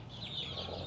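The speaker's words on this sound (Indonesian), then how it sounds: "Nih, ayam sakit ngorok." A sick chicken with a respiratory illness from cold weather, already vaccinated, makes a rattly snoring wheeze alone at close range, with faint clucking tones through one brief, steady breath.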